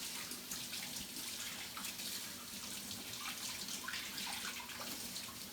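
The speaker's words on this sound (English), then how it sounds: "Let me go ahead and wash my hands off." Hands being washed under a running kitchen tap, a steady close rush of water splashing into the sink for several seconds with no talking.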